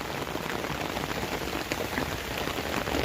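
Steady rain falling on a hard surface in a village, a dense even patter of drops close by, with no voices.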